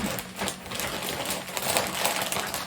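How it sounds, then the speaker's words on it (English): Steady crinkling of a plastic vacuum seal bag of seeds being handled, a continuous rustle of small crackles at moderate loudness with no talking. "You'll pardon the crinkling of the vacuum seal bag."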